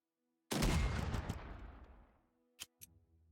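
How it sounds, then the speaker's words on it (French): Artillery barrage in the strategy video game Unity of Command II: one heavy blast that rumbles and fades over about two seconds, followed by two faint clicks. "Un barrage d'artillerie."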